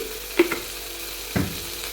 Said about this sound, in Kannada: ನೋಡಿ ಇವಾಗ ಇಲ್ಲಿ ಈರುಳ್ಳಿ ಫ್ರೈ ಆಗ್ತಾ ಬಂತು